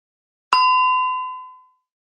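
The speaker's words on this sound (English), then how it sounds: "Click on the last word you read when the bell sounded." A single bright bell ding from the Read Naturally Live reading timer, a sharp clean strike that rings on with a clear tone and fades out over about a second, heard alone in silence.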